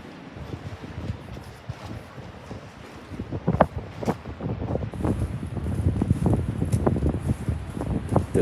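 Wind gusts buffet the microphone outdoors on a Sunday morning in Blackpool, a low rumbling roar that grows stronger and more turbulent toward the end, with no voices.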